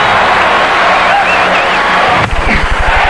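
A stadium crowd roars in a loud, continuous wash during a baseball home run derby. The cheering swells, then a low rhythmic thumping starts near the end.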